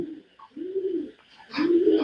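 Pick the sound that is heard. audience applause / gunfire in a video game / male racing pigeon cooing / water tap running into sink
male racing pigeon cooing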